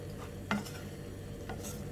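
Green gram and raw banana peel stir-fry being mixed in a pan at home, with a couple of soft scraping stirs and a faint sizzle running underneath, quiet and close.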